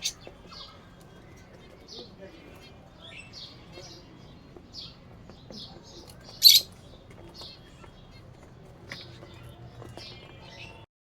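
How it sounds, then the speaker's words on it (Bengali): Small pet birds, including king quail, give faint, scattered high chirps and tweets while feeding, with one louder squawk midway over a quiet room background. "এটা আমার ছোট ছোট পাখিগুলো"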